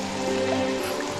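Steady rain pours down in a continuous dense hiss, heavy and close, with a constant low hum underneath and no voices.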